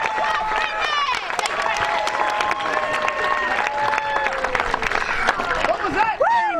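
Crowd at a Renaissance faire joust cheers and claps steadily for a performer, a dense wash of applause with whistles and shouts, loud and continuous throughout.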